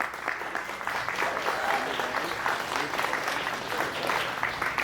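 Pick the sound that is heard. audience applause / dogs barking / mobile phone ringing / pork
audience applause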